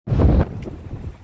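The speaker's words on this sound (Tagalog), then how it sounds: "Mahangin! Mahangin mga kapsat." Strong wind buffets the microphone outdoors in the Netherlands, a loud low rumble in the first half-second that eases into steadier gusting, with no voices.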